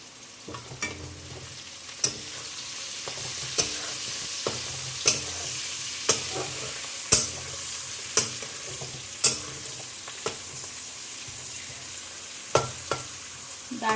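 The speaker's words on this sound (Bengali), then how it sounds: "গরম তেলের মধ্যেই আমি দিয়ে দেব।" Cardamom pods and cinnamon frying in hot oil for chicken rezala, a steady sizzle broken by regular sharp knocks of a spoon stirring the pan.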